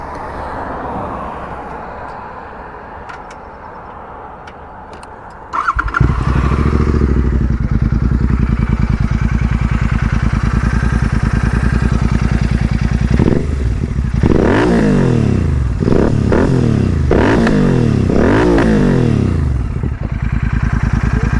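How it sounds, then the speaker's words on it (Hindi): A Royal Enfield Continental GT650 motorcycle fitted with a Red Rooster exhaust idles loudly nearby, then kicks into a throaty, deeper rumble and revs repeatedly in sharp rising bursts over a steady idle. "तो भाई ये थी कुछ रेड रोस्टर की आवाज़"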